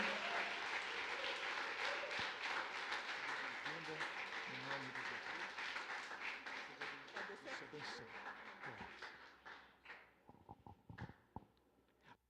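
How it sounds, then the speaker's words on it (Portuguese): A church congregation applauds during a Lord's Supper service, dense clapping that gradually thins and fades, with some voices and cheering underneath and a few scattered claps at the end. "Dê uma linda salva de palmas ao Senhor Jesus Cristo."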